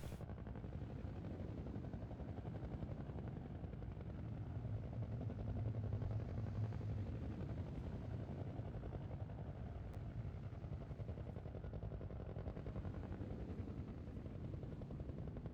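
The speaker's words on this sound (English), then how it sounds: "Two small helicopters with guns attached. They're not firing. Looks like they're landing." Two small gun-armed helicopters landing in Garry's Mod, a low, faint, continuous rotor and engine rumble that holds steady throughout without talk.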